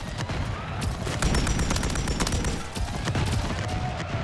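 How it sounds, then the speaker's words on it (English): Rapid bursts of gunfire from the video game Modern Warfare 3, a loud, dense stream of shots and cracks filling the whole stretch, with no talking over it. "Oh my god, how many shots?"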